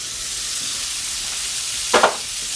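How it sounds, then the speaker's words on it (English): Small ALDI scallops sear in butter in a hot pan on high heat, a soft steady sizzle with a brief louder spatter near the end. "We're going in with the scallops"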